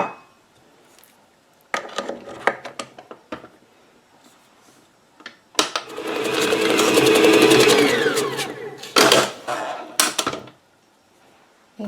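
Stand mixer beating banana cake batter with lemon zest and an egg, a steady whir of a couple of seconds framed by clattering knocks and bumps of the bowl and paddle; close, no talk.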